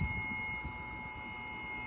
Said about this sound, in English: That's 1 beep.